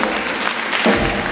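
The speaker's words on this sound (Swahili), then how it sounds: "Ongeza makofi hapo kwa Bwana." A church congregation claps for the Lord in a brief, dense burst of applause, many hands together forming a continuous roar, loud and close, with a low thump near the end.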